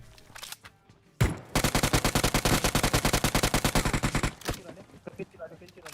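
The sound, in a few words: gunfire in PUBG Mobile video game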